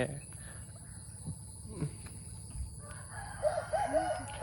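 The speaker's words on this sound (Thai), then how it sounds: "บ้านตาจิ๋วว่าบ้านตาจิ๋วว่าตาจิ๋วเขามีไก่แจ้" Bantam chickens cluck faintly in the background, and a distant crow rises near the end over a low steady hiss.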